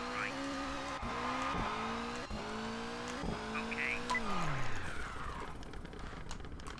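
A rally car in the racing game Colin McRae Rally 2.0 slides through heavy rain, its engine revving up and dropping with each gear change, with tire scrub and skidding mixed in and a voice briefly heard.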